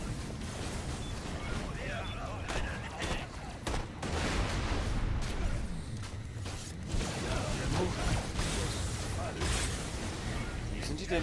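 Explosions and gunfire in the Borderlands: The Pre-Sequel video game, a dense continuous barrage of blasts and shots filling the whole stretch at steady loudness, with a voice talking over parts of it.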